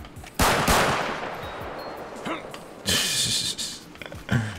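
Gunfire from the Real Immersive Gun Sounds mod in GTA 5: several loud, sharp shots and short bursts, with reverberant tails, spread across a few seconds.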